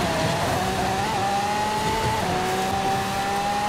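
A Ford GT ('FA') sports car driven around a circuit in Forza Horizon 5, engine holding a steady high whine with slight pitch shifts and a continuous tire-squeal tone through the corners, loud and close.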